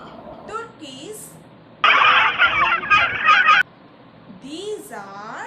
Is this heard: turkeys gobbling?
yes